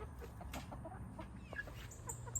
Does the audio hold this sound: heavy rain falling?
no